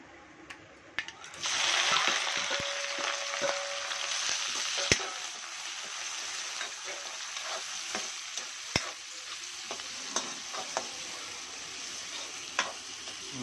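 Ground ginger-garlic paste hits hot oil with a cumin tempering for a mushroom pepper fennel masala, giving a sudden loud sizzle that settles into a steady frying hiss, punctuated by sharp spoon taps and scrapes against the pan.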